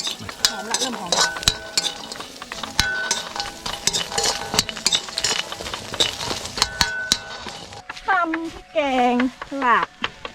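Ingredients for Thai pork larb dry-roasting in a pan at an outdoor countryside campsite, with repeated scraping, stirring and metal clinks of a utensil against the pan, close and busy, and a voice and bird-like chirps toward the end.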